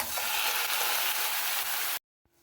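Shrimp hit hot oil in a pan with browned garlic, shallot and ginger, giving a loud, steady, dense sizzle that fills the moment and then cuts off abruptly, with no voice over it.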